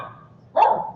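A pet dog gives a single short, sharp bark indoors, close and loud, after a moment of quiet room tone.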